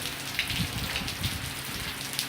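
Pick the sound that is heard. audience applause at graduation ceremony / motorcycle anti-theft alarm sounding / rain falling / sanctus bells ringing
rain falling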